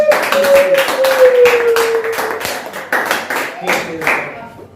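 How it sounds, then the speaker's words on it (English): Clapping from an audience at a hardware company's anniversary event for a newly opened branch, loud uneven claps from a smallish group, with a voice and a sustained tone heard over the first half. "I'd love for you to give a big round of applause for our newly opened branch"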